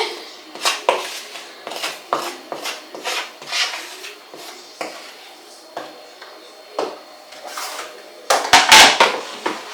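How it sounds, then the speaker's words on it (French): Boiled potatoes being mixed by hand with a carrot, onion and red pepper stuffing in a bowl, with repeated clinks and scrapes of a utensil against dishware in an irregular rhythm, fairly close, busiest near the end. "Je vais les mélanger avec la farce que je viens de faire, carottes, oignons et poivrons rouges."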